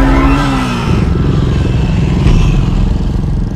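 A Suzuki DR dirt bike ridden on a supercross track, its engine loud and close, a steady rough drone with a brief rise in revs, and mechanical clatter throughout.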